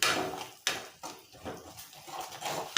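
A utensil stirs spices into a soya chunk (meal maker) fry in a pan, with a few sharp scrapes and clanks against the metal in an irregular rhythm, close by.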